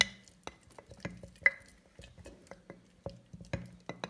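A spoon scrapes and taps through a manti dough batter as water is added, giving an irregular run of soft wet clicks and knocks against the bowl, close and fairly quiet.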